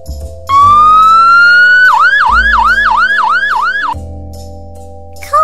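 A loud wailing fire truck siren, first a rising tone, then rapid repeated yelping sweeps, continuing steadily and alone.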